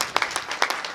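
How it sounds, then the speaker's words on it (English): Applause from an audience: a brief burst of scattered hand claps, close and moderately loud. "Give yourself a round of applause."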